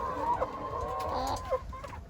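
Ornamental chickens cluck steadily in a coop at an Ankara poultry market, several nearby birds calling in overlapping, uneven bursts with no talk.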